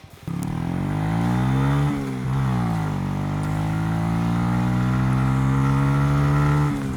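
A Honda CB 125 F 125cc motorcycle engine accelerates steadily on an open road, its buzzing note climbing in pitch, dipping briefly at a gear change, then rising again, loud and close with no talk.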